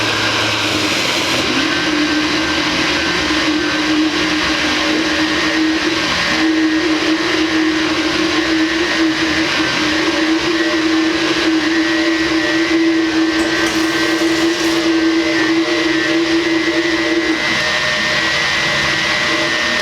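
A countertop blender whirs steadily for about twenty seconds, a loud continuous motor drone as onions are tossed in while it runs to make molé sauce.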